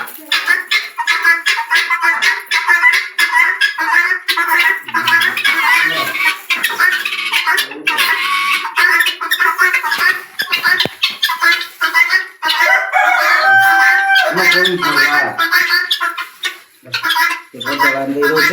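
Chickens in a garden cluck and squawk close by in busy, irregular bursts, with a voice heard at times.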